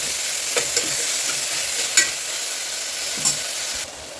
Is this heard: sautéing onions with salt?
yes